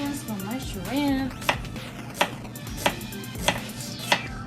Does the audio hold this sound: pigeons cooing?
no